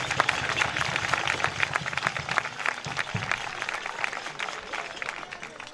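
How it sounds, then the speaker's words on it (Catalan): Applause from a crowd at a Catalan devils' troupe (colla de diables) exhibition and sponsorship event in Hostalets de Pierola, steady and fairly near, lasting the whole stretch with some talk mixed in underneath. "Un fort aplaudiment"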